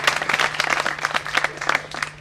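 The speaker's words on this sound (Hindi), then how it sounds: "एक बार ताली बजाकर सर का अभिनंदन करें।" Audience at a Manjusha art exhibition in Bhagalpur clapping to welcome a speaker, a dense, steady patter of many hands close by, with a low hum running underneath.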